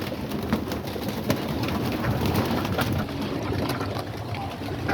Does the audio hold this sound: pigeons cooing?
yes